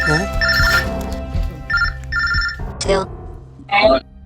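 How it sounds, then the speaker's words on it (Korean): A telephone rings with an incoming call in short, repeated electronic tone bursts, clear and fairly loud, while a voice speaks at the start of the clip. "전화가 걸려옵니다"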